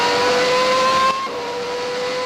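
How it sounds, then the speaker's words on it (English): A 1991 Formula 1 car at the British Grand Prix climbs through the gears, a steady high engine whine that drops in pitch at an upshift partway through and keeps pulling, loud and close with no voices. "2nd gear there, and then accelerating up through the gearbox"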